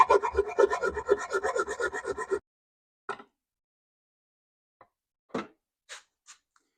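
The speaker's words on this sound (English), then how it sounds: "Now all we're going to use is a simple hacksaw." A hacksaw cuts through a plug on a 2008 Harley-Davidson Sportster in a garage, with rapid rasping back-and-forth strokes for a couple of seconds, then silence broken by a few faint, scattered clicks and scrapes.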